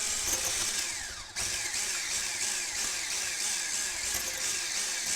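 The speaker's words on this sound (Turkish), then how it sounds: "30 saniye boyunca çırptım" An electric mixer whips popcake batter with milk and oil, giving a steady high-pitched whir that briefly dips and then resumes evenly, close and loud.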